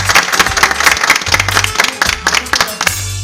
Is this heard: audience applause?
yes